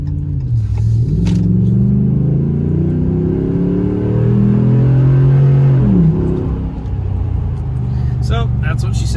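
A Ram 1500 pickup with a K&N Blackhawk cold air intake revs loudly and up close, its deep throaty engine note rising and falling in several sweeping pulls over a steady rumbling idle.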